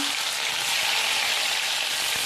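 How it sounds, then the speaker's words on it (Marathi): Onion and green chili sautéing in hot oil in a pan for a cabbage manchurian gravy, a loud, even, dense sizzle close up with no voices. "कांदा छान असा परतून घ्यायचा आहे"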